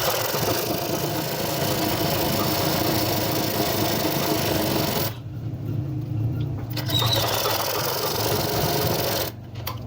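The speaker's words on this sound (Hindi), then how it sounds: "देखिए इस सिलाई को हम डबल स्टिच कर लेंगे।" A sewing machine double-stitches the lining seam of an Anarkali frock with a continuous fast whirring hum, close and loud. It pauses briefly midway, then runs again before stopping near the end.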